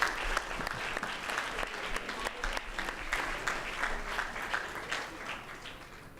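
Graduates clapping for their supporting audience at a high school summer commencement ceremony: sustained, crowd-wide applause filling a large hall for about six seconds, steady and fairly close, with no speech over it.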